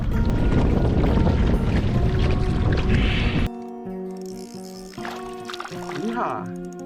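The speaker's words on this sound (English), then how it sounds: "Light canoe, hard to steer into the wind." Light canoe paddled on open water against the wind, with steady splashing and water noise giving way to quieter, tonal sounds partway through; no one speaks.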